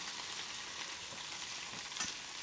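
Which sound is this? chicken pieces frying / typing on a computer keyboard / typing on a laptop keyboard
chicken pieces frying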